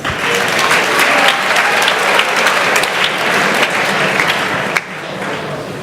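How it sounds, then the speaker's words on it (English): A school audience at an essay contest claps loudly and steadily for a student, a dense wash of applause that keeps going and then drops off sharply near the end, with no talking on top. "let's give Julian a round of applause."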